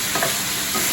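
Vegetables are stirred in a frying pan, a brief, close burst of sizzling with soft scraping and shuffling from the stirring, and no voices.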